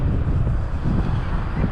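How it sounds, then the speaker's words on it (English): Wind blows across a microphone outdoors during a top-speed ride on a 6000W electric scooter, a steady low rumbling buffet that stays loud and unbroken throughout, with no talking. "it's hard because the wind is blowing this way"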